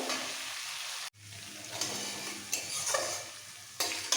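Onion paste fries in oil while being stirred with a utensil, giving a steady close sizzle broken by a brief pause and a few scraping stir sounds, with no talking.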